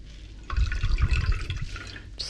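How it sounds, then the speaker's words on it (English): Water runs and drips from a wet knitted fabric being gently squeezed by hand during wet blocking, a close, soft trickle and patter that swells for a moment and then tapers, with no talk. "You're going to gently squeeze it to get the excess water out."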